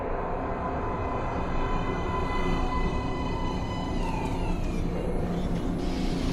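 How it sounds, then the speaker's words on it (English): In the Metro Last Light Redux game, a metro train rumbles into an underground platform as a loud, continuous roar with high metallic squealing tones that shift near the end. "Please step away from the edge of the platform. Train coming in."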